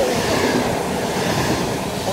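A train rolls through Delft Campus station, a loud, continuous rumbling roar of wheels and carriages close by with no clear breaks.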